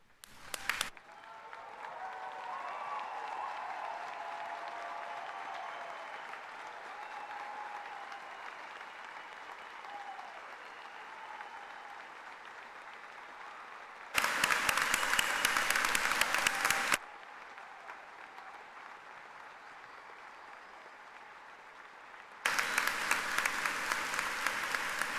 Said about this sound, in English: share in a roaring applause